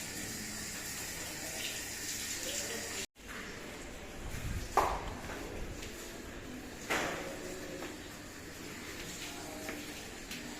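Water runs from a tap in a steady hiss, briefly cut off then flowing again, with a couple of louder splashes and knocks close by.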